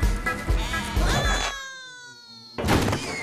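A sheep bleats loudly with a long wavering cry in the middle, framed by busy music and clattering sounds before and after.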